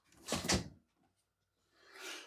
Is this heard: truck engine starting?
no